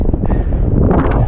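Loud gusty wind on the summit of Cul Mor in the Scottish Highlands buffeting the microphone, a heavy low rumble with rushing noise, no pauses.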